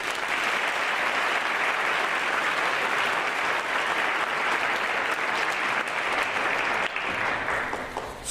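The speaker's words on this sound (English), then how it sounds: "Please join me in giving them a well-deserved round of applause." Sustained audience applause fills a scholarship awards assembly, a dense, even wash of many hands clapping at steady loudness for the full duration, easing only slightly near the end.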